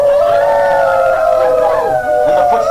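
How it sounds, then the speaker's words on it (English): Several long, wavering howls overlap in a sustained chorus, their pitch sliding and bending, clear and fairly loud. "In the distance, the wolves began to howl again."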